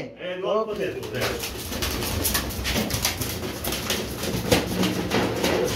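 Indian Lotan pigeons in a loft coo with soft, repeated throaty calls. A brief nasal call opens, then steady cooing and rustling continue close by throughout.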